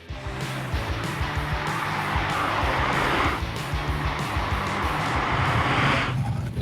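A Volkswagen Corrado drives on a typical Quebec road, its engine droning loudly and steadily up close, with tire and road noise building in two long surges.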